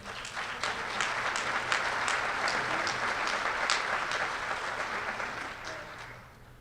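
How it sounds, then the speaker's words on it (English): An audience at an evening banquet applauds warmly for several seconds, with a full, close wash of clapping and a few sharper individual claps, before it fades out at the end. "would you give them a round of applause?"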